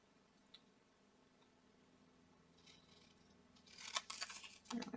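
Scissors snip through card paper while scrap cards are made, faint at first and then a few close, crisp cuts near the end.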